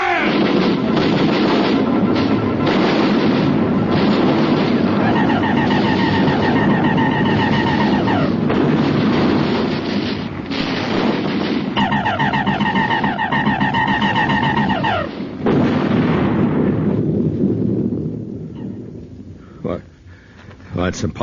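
Artillery batteries firing as a radio drama sound effect, a dense, distorted roar of continuous booming barrages with echoing rumble that sweeps on for a long stretch, then briefly dies away before another burst.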